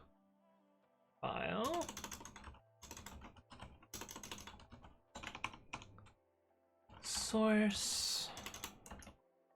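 Bursts of typing on a computer keyboard, quick clattering keystrokes in separate runs, heard close and clear with someone talking in between.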